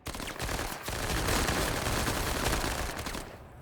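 Gunfire in the tactical game MENACE, a dense, steady roll of shots and impacts that runs loud and unbroken for a few seconds at close range, with no talk.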